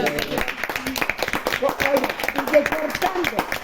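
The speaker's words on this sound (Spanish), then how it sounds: "creo que merece un aplauso" A small group claps for a retired teacher at the end of an interview, a scattering of light claps mixed in with people talking.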